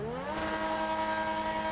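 A Koenigsegg Jesko engine rises quickly in pitch, then settles into a loud, sustained high-revving whine that stays close and unbroken.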